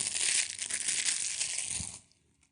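Crackly plastic wrapper being torn and crinkled off a brand new Bach Brandenburg Concertos CD, close and busy for about two seconds before stopping abruptly into near silence.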